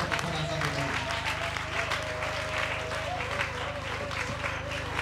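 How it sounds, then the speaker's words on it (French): A church congregation applauds continuously, a dense patter of clapping that holds steady throughout, with a low hum underneath. "Applaudissons pour ce Dieu."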